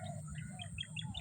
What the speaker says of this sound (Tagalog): Yung mga huni ng ibon dito, maririnig talaga